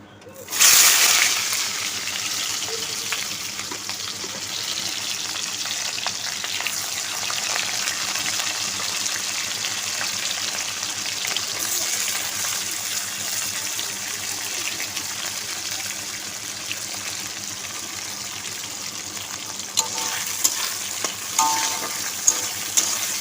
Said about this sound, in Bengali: পেঁয়াজটা অল্প ভাজা ভাজা হোক।